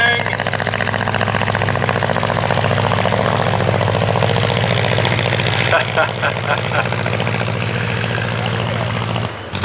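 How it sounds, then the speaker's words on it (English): A vintage airplane engine runs at the Rhinebeck Aerodrome airshow, a loud, continuous propeller drone heard close by with a slight rise in the middle, then cut off at the very end. "Start to blip the engine,"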